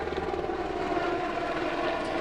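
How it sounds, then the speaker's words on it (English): A helicopter passes overhead outdoors, its steady rotor and engine drone filling the clip as a loud, continuous rumble with no speech. "we got a helicopter coming overhead"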